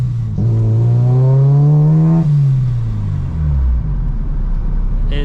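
Supercharged Honda K20 engine in an RSX pulls hard with a loud rising whine, then eases off as revs drop, ending with a short sharp hiss of the blow-off valve.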